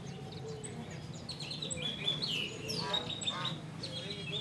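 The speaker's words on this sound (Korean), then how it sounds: "이곳에는 희귀 앵무새와 바우어새 등 다양한 종류의 새들이 유통되는 곳이라고 했다." Birds call at an Indonesian bird market where rare parrots and bowerbirds are traded. A busy mix of quacking, squawking and chirping calls overlaps continuously at moderate distance over a low background din.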